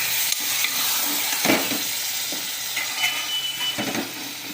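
Chicken gravy ingredients sauté in a pan with a steady sizzle, broken by several scraping stirs of a spatula, close and fairly loud with no talking.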